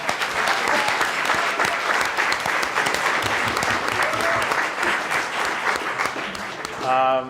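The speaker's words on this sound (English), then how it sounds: "So round of applause for her." An audience at a monologue slam performance breaks into dense, sustained applause that fills the whole stretch at steady loudness, with a brief swell of cheering near the end.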